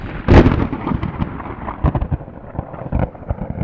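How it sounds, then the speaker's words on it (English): Thunder from a storm near the top of the Cleaver, high in the mountains near Mount Whitney: a sharp, loud crack followed by deep, uneven rumbling that rolls on and fades. "major thunderstorms very close to top of the Cleaver"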